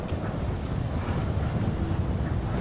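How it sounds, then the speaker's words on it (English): Strong wind buffets the microphone out on the airfield at Heathrow airport, a steady low roar with gusty rumble and no break for the whole stretch, loud and close. "Wind's too strong at the moment."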